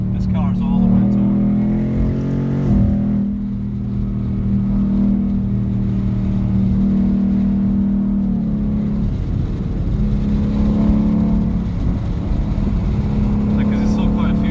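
Ford Mustang GT engine drones steadily from inside the cabin while accelerating, a low continuous rumble with rising and falling pitch as revs climb, loud throughout.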